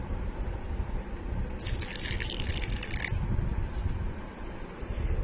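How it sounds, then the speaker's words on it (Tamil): Water is poured from above onto a Chettinad mutton biryani spice mixture to soak it, a brief splashing pour of about a second and a half over steady kitchen background noise, with no speech. "இப்போ இதில் நம்ம தண்ணி ஊற்றி 10 நிமிஷம் ஊற வச்சுக்கலாம்."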